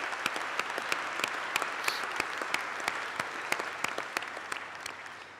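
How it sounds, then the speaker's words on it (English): A convocation audience breaks into sustained applause, with many hands clapping densely and evenly throughout at a moderate distance. The applause continues without voices. "Let us recognize these leaders with a round of applause."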